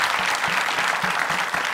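Studio audience applauding at the opening of a Turkish relationship-quiz talk show, a dense steady clatter of many hands clapping close by and filling the whole moment, with no voices over it.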